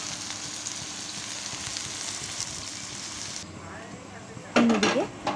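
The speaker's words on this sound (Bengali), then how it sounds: "কড়াইতে তেল নিয়ে তার মধ্যে গোটা গরম মশলা ফোড়ন দিয়ে পেঁয়াজ কুচিগুলো ও সামান্য কাঁচা লঙ্কা দিয়ে নাড়াচাড়া করে নিচ্ছি" Chopped onions, whole garam masala and green chillies fry in oil in a wok, giving a soft continuous sizzle under steady background noise, followed near the end by a brief louder clatter of stirring.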